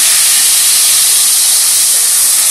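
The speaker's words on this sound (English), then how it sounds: "you can hear it sizzling real good" A loud, steady, broadband hiss fills the whole stretch without a break as a Mexican rice mixture sizzles hard in a hot pan.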